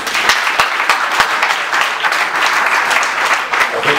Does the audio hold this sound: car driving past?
no